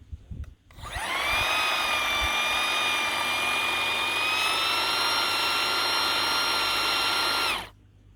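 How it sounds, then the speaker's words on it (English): A battery hedge trimmer whirs up loudly and runs steadily, its motor pitch shifting upward partway through, then cuts off abruptly. "I'm going to put it on speed 1 and put it on speed 2 while it's cutting"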